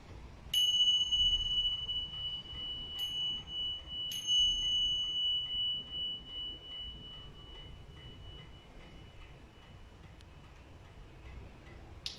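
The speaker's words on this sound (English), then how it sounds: "I'll ring the bells at the beginning and I'll ring the bells again at the end as a signal that" Small mindfulness bells are struck three times at the start, each strike leaving a clear, sustained ringing tone that slowly fades over a soft background hum; no speech.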